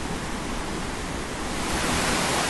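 Horse Shoe Falls, a small waterfall in Munising, Michigan, gives a steady broadband rush of falling water, close and loud, unbroken and growing slightly fuller toward the end, with no voices.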